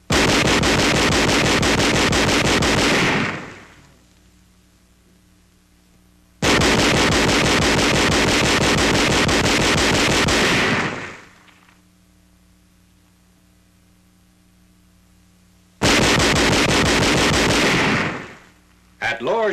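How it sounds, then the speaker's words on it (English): Captured 20-millimeter gun fires indirect fire in three long bursts of rapid repeated reports, each lasting several seconds, separated by quiet gaps with faint hum on an old wartime recording. "Employing the captured 20-millimeter gun on 2nd January, enemy targets a half mile away are brought under indirect fire."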